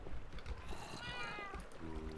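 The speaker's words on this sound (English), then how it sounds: "Spawn up here, cats." Cats in Minecraft meowing close by, two drawn-out mews rising and falling over a busy, noisy game background, with a short tonal sound at the end.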